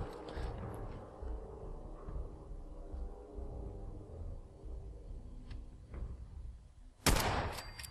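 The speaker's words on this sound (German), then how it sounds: "Weil da kommen mir zu viele Schüsse entgegen." Dense gunfire crackles in Fallout 4 at a raider base, with a rumbling battle underneath and a sharp, loud burst of shots near the end.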